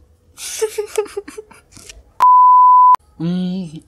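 A single steady electronic phone beep, loud and clean and lasting under a second, between short bursts of people talking.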